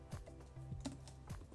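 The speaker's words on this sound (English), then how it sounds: "let's type on the MacBook itself" Typing on the keyboard of an M1 MacBook Air, a few soft, close key clicks in a short uneven burst, faint and without any talking.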